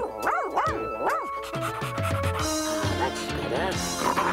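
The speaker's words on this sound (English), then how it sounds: "I command you to be a dog, a canine, man's best friend!" A cartoon dog barks and yips in quick, high bouncy bursts, then the barking turns busy and layered under cartoon music, near and fairly loud throughout.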